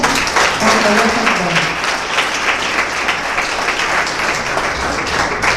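Congregation at a church gathering clapping in praise, a loud continuous wash of many hands with a voice speaking briefly over the start.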